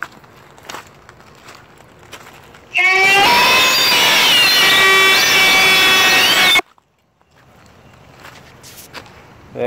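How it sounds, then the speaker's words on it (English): A loud wolf-howl phone ringtone with rising, wavering tones suddenly blares for about four seconds, then cuts off, leaving quiet outdoor rustling near mossy rocks before and after. "That noise was my ringtone."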